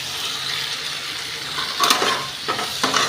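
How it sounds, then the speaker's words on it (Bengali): Onion-garlic spice paste frying in a pan for a small-potato dum, a steady close sizzle with a few scraping stirs of the spoon near the end. "এবারে কষিয়ে নেব"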